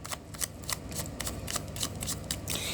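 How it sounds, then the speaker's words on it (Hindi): Tarot cards being shuffled by hand, a steady run of crisp riffling flicks and slaps in a quick rhythm, close and fairly clear. "last shuffle"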